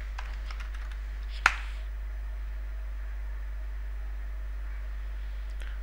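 Commands are typed on a computer keyboard while setting up a Raspberry Pi, with a few faint key taps and one sharp keystroke over a quiet steady hum.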